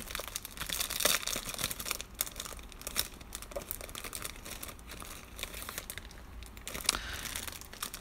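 Wrappers of 1987 Topps tri-fold trading card packs crinkle and tear up close, a continuous run of papery rustling and ripping with no talk.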